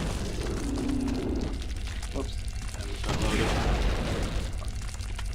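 Heavy explosive booms from a handheld naval cannon in the game Larva Mortus, two or three rumbling blasts close together, with people talking over them.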